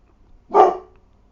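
A dog gives a single short, sharp bark, close and clear, against an otherwise quiet background.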